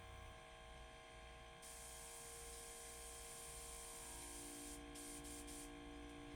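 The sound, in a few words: Silentaire DR 150 quiet airbrush compressor running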